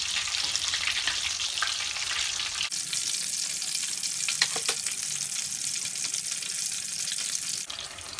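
Tempura-battered prawns fry in hot oil with a steady, close crackling sizzle throughout, a brief shift partway through as the pieces are turned, and no talking.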